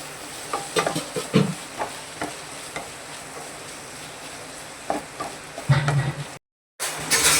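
Ingredients including small potato pieces are sautéed in a pan for tomato rice, with a low sizzle under scattered spoon scrapes and stirring knocks, close by, briefly cut to silence near the end.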